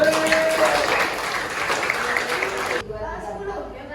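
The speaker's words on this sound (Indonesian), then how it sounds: "tepuk tangan." Indoor audience of students applauds during an emotion-management class, a dense steady wash of clapping that cuts off sharply before three seconds, followed by quieter room sound and faint voices.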